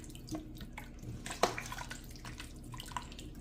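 Water splashes and drips into a stew pot of potatoes, faint and intermittent, with one sharper splash in the middle and light dribbles after.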